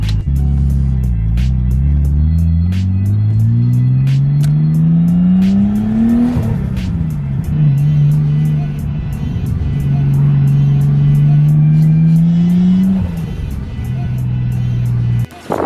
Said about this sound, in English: So let's hit the road, Russell Coit style.